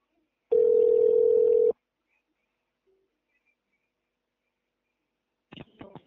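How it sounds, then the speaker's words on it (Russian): A single steady telephone line tone plays alone for about a second while a caller waits to be connected to an operator, followed by a long silence and a brief burst of faint clicking or dialing near the end. "Пожалуйста, ожидайте соединения с оператором."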